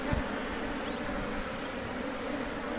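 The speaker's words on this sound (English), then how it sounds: "especially when there's lots of bees flying around" Honey bees swarm around an open homemade horizontal Langstroth beehive during an inspection, a steady dense buzzing drone that fills the space continuously without any voices.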